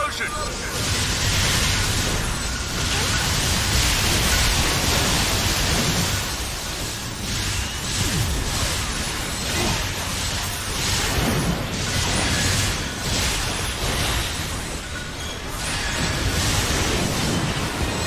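A sustained, roaring explosion sound effect plays on an anime convention livestream, a loud continuous rumble with surging bursts that holds steady at the same level throughout.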